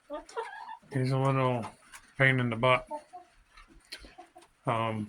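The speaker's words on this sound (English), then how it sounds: "There's another big rooster there." A rooster gives several loud, drawn-out clucking calls close by, with a person speaking briefly in between.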